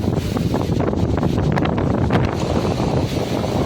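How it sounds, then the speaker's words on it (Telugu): Strong wind blowing near a temple, a loud constant roar buffeting the microphone with rumbling gusts throughout and no voices. "ఎలా ఉందో గాలి"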